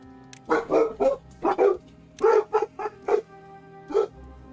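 Dogs bark indoors in a string of about ten loud, close barks, some in quick pairs, with short pauses between them and no talk.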